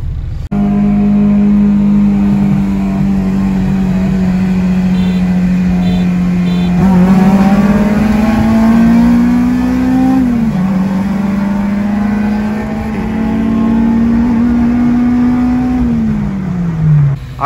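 A 2002 Acura RSX's K20A2 engine pulls hard from a rolling start in a race, its loud, steady drone climbing in pitch through the revs, dipping briefly at a gear change, then rising again before backing off near the end.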